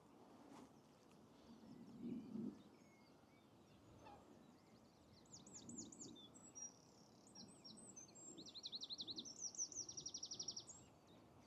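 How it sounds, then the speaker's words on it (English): Birds call and sing beside a canal at a breach site, with soft low-pitched clucks early on, then sharp repeated trilling chirps growing louder over steady outdoor wind rumble. "You still hear the birds though"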